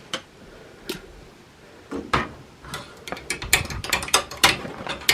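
An embroidery machine starts stitching an in-the-hoop sensory toy, with sparse mechanical clicks that quicken into a brisk, close, rhythmic ticking and clatter.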